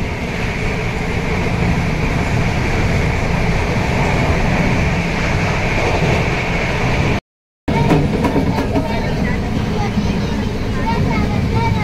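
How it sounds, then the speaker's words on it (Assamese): A very fast train nearing Agra station roars past in a steady, loud rumble with rattling wheel noise, a brief cut partway, and faint voices near the end. "একদম বহুত স্পীডত যায় ট্ৰেইনখন।"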